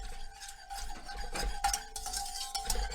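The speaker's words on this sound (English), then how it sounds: "Give all those ingredients a good whisk." BBQ sauce ingredients seasoned with black pepper are whisked in a bowl, giving a busy, rhythmic scratching and scraping that swells and fades at close range.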